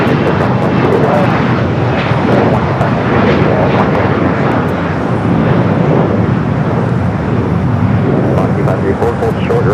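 A jet airliner departing LAX gives a loud, close, sustained engine roar that swells and rolls steadily, with faint radio-style voice chatter mixed underneath.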